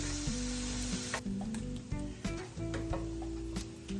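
Vegetables for meatloaf sizzle steadily in a hot pan, a loud, continuous frying hiss broken by light scrapes and stirring knocks.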